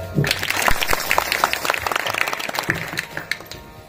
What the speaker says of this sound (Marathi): परत एकदा टाळ्या.